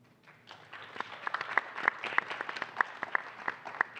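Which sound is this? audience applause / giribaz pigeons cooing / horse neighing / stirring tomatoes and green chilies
audience applause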